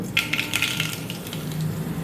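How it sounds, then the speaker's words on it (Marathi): Mustard seeds dropped into hot oil in a kadhai on a gas stove for the tempering of a ghevda dal amti, crackling and popping in a dense, steady sizzle with sharp spattering ticks near the start. "पाव चमचा मोहरी टाकून घेऊ"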